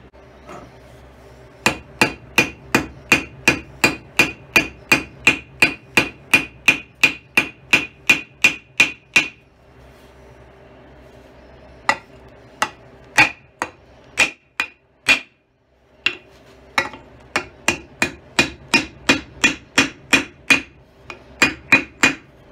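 Axe struck with a hammer on an anvil, sharp ringing metallic blows in quick regular runs, close and loud, with brief pauses between bursts.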